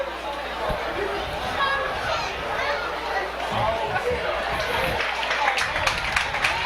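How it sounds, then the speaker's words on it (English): Crowd in the stands at a high school football game, Stafford at James Monroe, giving steady applause and chatter at moderate distance, a continuous wash of clapping and murmur throughout. "we can hear the applause from the crowd here"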